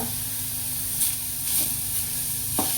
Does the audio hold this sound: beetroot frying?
yes